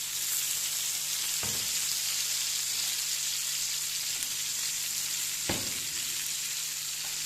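Fish boti tikka frying in oil, a continuous close hiss and sizzle with a faint steady hum beneath and two brief knocks from stirring or handling.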